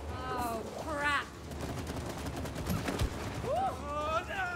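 Rapid bursts of gunfire from the co-op video game It Takes Two, repeated shots and rattling volleys through a busy game mix, with excited players shouting over it.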